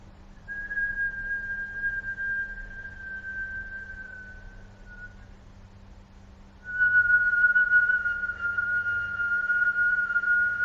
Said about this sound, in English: just let your mind delve into the whistling and any harmonics you might